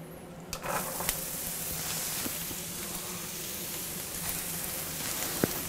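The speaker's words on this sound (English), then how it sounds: "I'm gonna go ahead and throw my onions in now." Onions dropped into a pan of bacon and melted butter, followed by a soft, even sizzle that holds steady at a moderate level; a light clatter near the start and a faint tap near the end, no talking.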